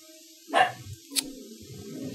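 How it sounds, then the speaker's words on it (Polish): A small mixed-breed dog gives a short, sharp bark and then a fainter second yip at a noise in a stairwell, heard indoors at moderate distance over quiet background game sound. "To ona już musi sprawdzić, poszczekać, jak to mały kundel."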